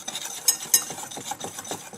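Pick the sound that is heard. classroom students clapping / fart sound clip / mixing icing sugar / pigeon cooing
mixing icing sugar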